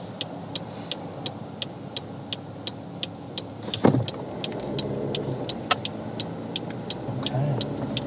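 Car interior sound while driving in traffic: a steady low road and engine rumble runs throughout, with regular faint ticking like an indicator, a brief sharper thump near the middle, and speech mixed in.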